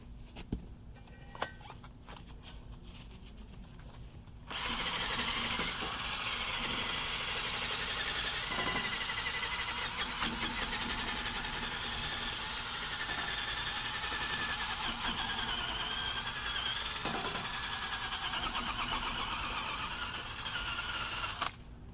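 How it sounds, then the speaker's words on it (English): A battery power drill with a wire brush whirs steadily against the metal wheel hub of an Audi B8.5 S4 during a front brake replacement, a loud continuous grinding buzz starting a few seconds in and running to the end. "this hub needs to be cleaned, so wire brush"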